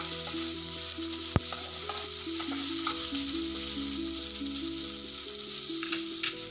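Finely chopped onion with five-spice stir-fries in a pan, giving a constant close sizzle with stirring scrapes and a sharp single clank near the start. A background hum runs under it, and no one speaks.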